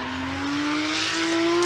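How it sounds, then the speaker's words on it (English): Drift car at Formula Drift Japan, Okayama, riding the wall through a qualifying run: a sustained engine note climbing steadily in pitch, loud and continuous with tire hiss, no talk. "Listen to that car rumble, riding that wall all the way through"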